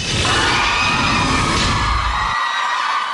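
Fans scream for a K-pop group as they make their entrance at a concert in Pasay City, a dense, loud, continuous wall of high-pitched shrieks and cheering from a large crowd, with a low rumble that cuts out near the end.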